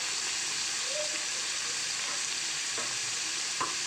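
Mutton masala with cashew paste fries as it is stirred in a pan, producing a steady close hiss throughout, with a couple of faint scraping touches near the end.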